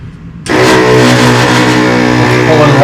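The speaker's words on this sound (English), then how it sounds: "the machine will cycle the white ink every, I don't know how many hours" Omniprint direct-to-garment printer pump recirculating white ink: after a half-second of near quiet it kicks in abruptly and holds a loud, steady mechanical whir with a humming motor tone, with no talking.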